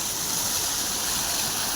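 Water rushes steadily from pipes into a farm irrigation channel, a loud continuous gushing flow close by, with no talking.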